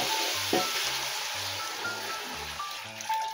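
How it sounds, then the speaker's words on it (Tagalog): Coconut milk poured into a hot pan of Bicol express with string beans, a steady loud sizzle and bubbling frying hiss with no talk. "At ilalagay ko na po itong gata."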